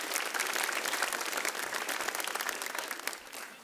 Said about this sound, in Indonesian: Boleh tepuk tangan buat Komika Vaganza dulu.